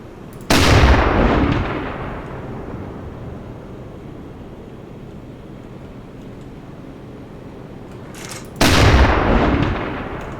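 A submarine's deck gun fires at a convoy in the U-boat game UBOAT: two loud, sharp booms several seconds apart, each followed by a long rolling decay that fades into low rumbling background noise.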